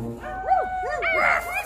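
People imitate dogs with their voices, giving a quick run of howling, yipping bark sounds that rise and fall, loud and close.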